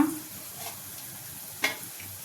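Onions frying in a pan for an egg and onion tamarind curry, a soft continuous sizzle with a couple of faint stirring scrapes, quiet and without speech.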